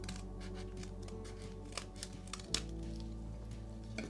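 Scissors cut straight across paper for a DIY accordion folder and mini envelope flipbook, giving a run of quick, soft snips and crisp paper rustles, close and quiet, with no talking.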